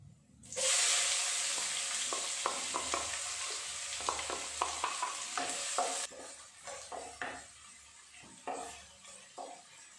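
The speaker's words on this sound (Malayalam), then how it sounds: "നമുക്ക് അതിനകത്തോട്ട് വയറ്റാൻ വെച്ചിരിക്കുന്ന ഉള്ളി ചേർത്ത് കൊടുക്കാം" Onions tossed into hot oil with cinnamon, cloves and cardamom for a Nepali-style egg curry, sizzling loudly and steadily with repeated stirring clinks and scrapes of a spoon against the pan; no voices.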